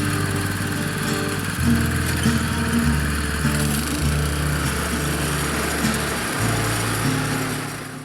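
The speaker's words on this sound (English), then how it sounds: "using the throttle, it will then start to drive the turf cutter across the turf, slicing up the turf" A turf cutter's small engine drones steadily up close, stepping through shifting pitches and rising and falling as the machine drives across a lawn slicing up turf, with no voices.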